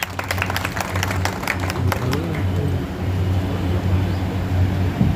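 An audience claps and applauds at the inauguration of a post office in Khandwa. The dense, sustained clapping fills the whole stretch over a steady low hum.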